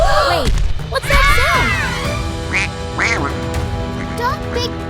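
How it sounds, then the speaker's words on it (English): Cartoonish quacks from a giant duck in a Peppa Pig animation sound repeatedly over busy background music and effects, fairly loud and close. "Oh no, it's a giant duck."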